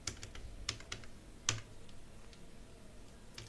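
Keys tapped on a computer keyboard while entering a report title in Microsoft Access 2010, a few scattered clicks with one sharper keystroke, close and fairly quiet, no talking.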